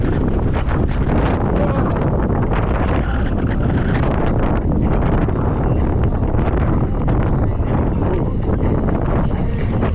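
Strong wind buffets the microphone continuously on a May ride along the Crimean coast, a loud, dense roar with no letup that swamps everything else.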